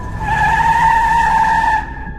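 Car braking suddenly with tyres skidding, a loud sustained screech lasting nearly two seconds that cuts off abruptly, set as a horror story effect.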